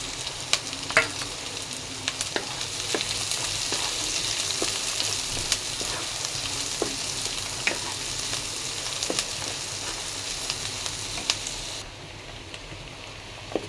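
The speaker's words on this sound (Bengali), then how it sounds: "পেঁয়াজ ভাজার মধ্যে দিয়ে দিলাম" Chopped raw onions and green chilies fry in a pan for pasta, a continuous close sizzle with scattered spatula taps and scrapes as the mixture is stirred, no one speaking.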